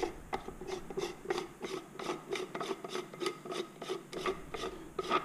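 Threaded end of a 3D-printed hydrofoil housing being unscrewed by hand, a close steady series of rhythmic plastic rasps and clicks as the threads turn, with no talk.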